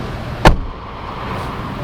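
A single solid thud of a 2022 Honda Civic V Turbo door shutting, near and short, followed by quiet cabin ambience.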